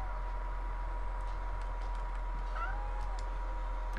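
A cat meows a few times at moderate loudness over a constant low hum and steady background noise, within a horror video game scene.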